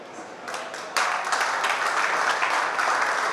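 Audience applause at a charity golf tournament event rises sharply after a quieter start and settles into dense, sustained clapping that fills the room.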